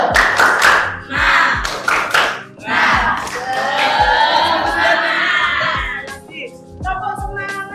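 A classroom of children claps a rhythmic spirit clap, tepuk semangat, in short bursts of taps with pauses, and the children's voices shout along over the clapping.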